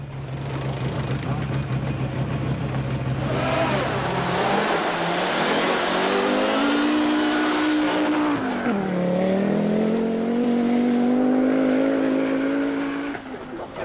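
A 1981 Audi Quattro rally car on tyre tests at Saint-Jean-en-Royans, a Monte-Carlo Rally special stage, roars loud and close, its engine climbing and falling through gear changes with a brief tyre squeal, no voices over it.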